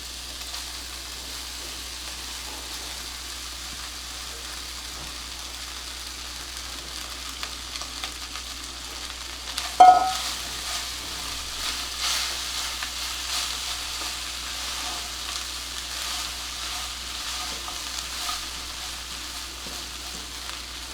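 Cooked rice being added to roasted peanuts in a pan for chitranna, a low steady sizzle with a sudden scrape and clatter midway, followed by soft stirring noises, no talk.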